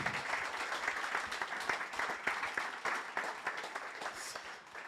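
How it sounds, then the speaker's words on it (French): Audience applause for a Paralympic swimming champion at an interview event, a steady dense wash of clapping that holds for about five seconds and thins slightly toward the end. "de faire un tonnerre d'applaudissements pour Alex"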